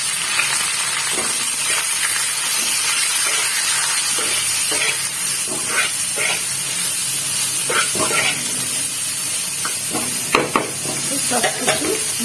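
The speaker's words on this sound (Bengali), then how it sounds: "এবার একে একে পেঁয়াজ, আলু সব অ্যাড করে দেবো" Onions and potatoes sizzle loudly in a pan after a tempering of fried spices, with continuous frying hiss and repeated close scraping of a spatula as they are stirred.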